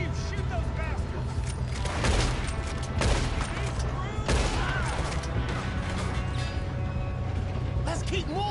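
A shootout in Red Dead Redemption 2 brings repeated sharp gunshots in irregular bursts with booming reports and mechanical clatter, while voices shout over the firing.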